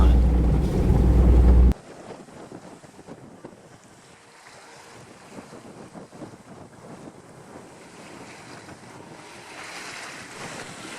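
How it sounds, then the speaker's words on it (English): A Swan 48 sailboat sailing close-hauled offshore, steered by hand with no autopilot: steady rushing wind and water wash on deck, after a brief loud burst at the start, with no talking. "I'm at the helm, on my watch, sailing close haul, no autopilot."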